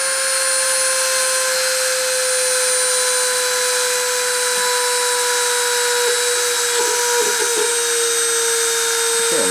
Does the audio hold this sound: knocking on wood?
no